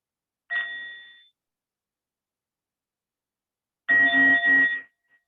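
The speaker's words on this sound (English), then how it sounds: "Let's listen to one sound of the bell." A mindfulness bell rings with one clear, pure tone that decays in calm silence, followed by a second, louder resonant strike with a lower hum, close and alone.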